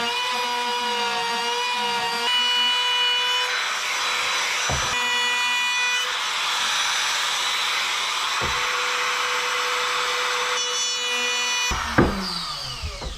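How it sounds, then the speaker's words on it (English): Trim router cutting wood freehand during a wooden boat restoration, a loud, continuous high-pitched whine with a sustained hiss, a few brief knocks and a sharp thump near the end as the cut finishes. "I actually hate freehand routing."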